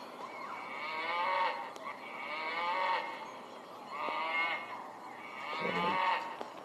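Cartoonish cow moos from an iPad video game, four drawn-out lowing calls spaced evenly across the clip, fairly loud and alone with no talk.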